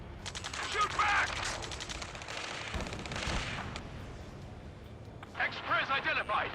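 Ace Combat 7 ground rescue mission with rapid gunfire crackling in bursts at the start and end, steady battle noise between, and urgent voices talking over it.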